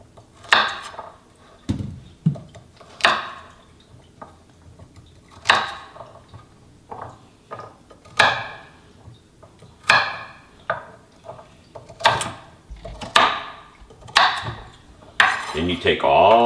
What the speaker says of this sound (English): Cut the carrots, usually just in half,